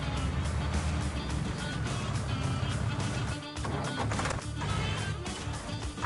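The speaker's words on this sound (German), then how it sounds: "Da war das Auto." A car goes by nearby with a loud, continuous road and engine rush, a brief dip midway and a surge of broadband noise around the fourth second as it passes.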